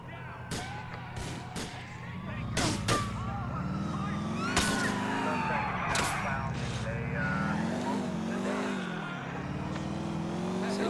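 Car engine driving and revving in GTA IV, with continuous motor drone rising and falling, sharp gunshot-like bangs scattered over it, and a voice talking over the action.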